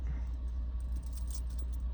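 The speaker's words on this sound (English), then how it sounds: "The spare key is the same, of course, but it's a different color." Car keys for a 2001 Toyota Land Cruiser Prado 95 Series jangle softly, a brief metallic clinking cluster midway through over a low, steady hum.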